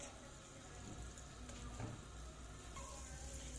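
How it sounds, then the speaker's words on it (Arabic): Qatayef pancakes fry in a pan with a steady, close sizzle and crackle of hot oil, faint and continuous, with occasional stirring clinks and no talking. "اني محتاجه القطايف تاعي نحمرها تحميره مليحه"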